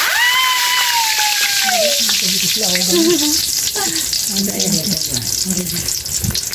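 Pork belly for lechon kawali crackles in hot oil in a pan over a wood fire, a loud, dense, steady sizzle that runs the whole time. Voices and tonal cooking noises sit over it early on.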